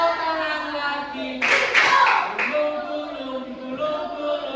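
Hand clapping during a children's classroom clapping game in an Indonesian elementary school, a short burst of claps in the middle with singing voices around it.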